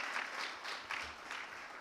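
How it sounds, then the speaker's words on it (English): Audience applause after results are announced at a school debate knockout, steady clapping from a crowd, moderately loud and continuous for about two seconds with no speech. "A round of applause, please, for Kangaru School."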